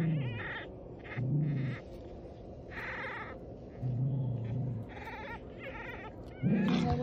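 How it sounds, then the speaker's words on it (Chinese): Several thin, high-pitched whimpering cries come from a small puppy in a muddy drainage ditch, repeating in uneven bursts with short pauses between them, close and fairly clear with no talking. "小奶狗的叫声。"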